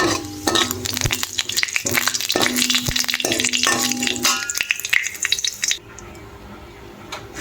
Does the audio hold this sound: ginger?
yes